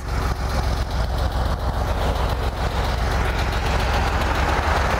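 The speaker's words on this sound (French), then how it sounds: "Mais écoutez-moi, le flat 6." Flat-six engine of a Porsche 911 3.2 running on a mountain road, a steady low rumble heard from inside, continuous and moderately loud with road and traffic noise mixed in.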